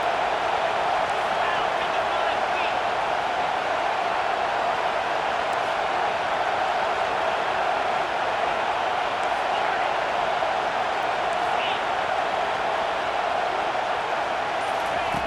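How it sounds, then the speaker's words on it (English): Stadium crowd at a college football game between USC and Nebraska, roaring steadily in a loud, unbroken wash of noise as fans back the defense on third down, with no distinct voices standing out. "Decibels rising as the crowd gets behind this defense on third down."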